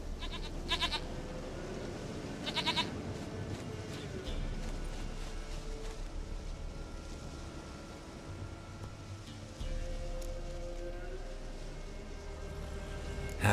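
Short goat bleats sound in The Witcher 3 over a steady game background hum, a couple of clustered cries near the start that then fade into faint ambience.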